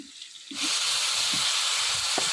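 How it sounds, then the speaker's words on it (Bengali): A little water goes into a hot pan of frying vegetables, triggering a sudden loud burst of hissing steam that swells and holds over faint bubbling. "জল দিয়ে দিলাম"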